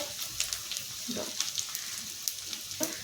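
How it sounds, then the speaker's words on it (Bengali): Ground turmeric, chilli, Kashmiri red chilli, cumin and coriander powders frying in oil in a pan for a chicken curry, a soft close sizzle with light clinks and scrapes of stirring, short and alone. "এখানে ভালো করে মশলাটা আমি কষে নেব তেল ছাড়া অবধি"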